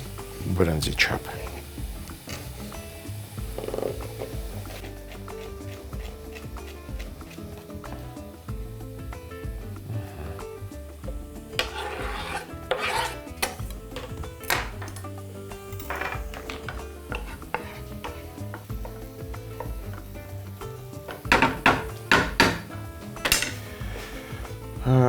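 Vegetables being chopped into rice-grain-sized bits for onigiri filling, with knife strikes and dish clinks against a board scattered through, clustered bursts of sharp taps, close up and under steady talk.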